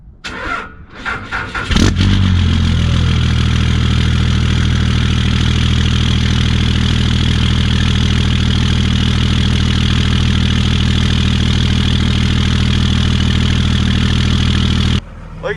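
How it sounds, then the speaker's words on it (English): 2002 Cummins diesel in a Ram pickup cranking briefly, then firing up into a loud, steady, rumbling idle that runs on evenly before cutting off near the end, with a voice heard around it. "Old Cummins still starts up."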